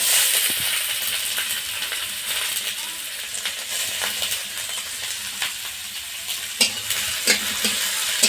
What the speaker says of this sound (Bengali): এখন তেলের মধ্যে দিয়ে দিলাম গোটা জিরে, আর দিয়ে দিচ্ছি পেঁয়াজ কুচি আর কয়েকটা চেরা কাঁচা লঙ্কা